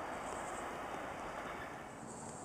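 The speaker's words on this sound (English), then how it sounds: "But I got my first trash train." A garbage freight train rolls past on the rails in a loud, continuous broadband roar of wheels and cars, with a faint high squeal riding on top and no voices.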